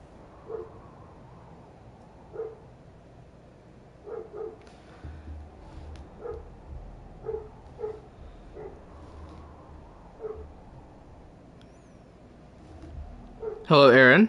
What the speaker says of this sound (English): I know y'all can hear that dog barking in the background.